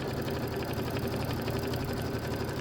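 A sewing machine runs continuously during quilting, giving a steady, even mechanical hum throughout this short stretch.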